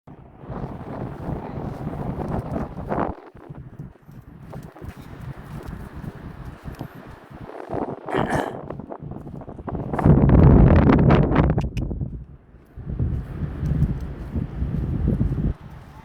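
Strong wind at the Dunkirk seaside buffets the microphone in uneven gusts, rumbling and roaring, with a louder blast near the middle before easing.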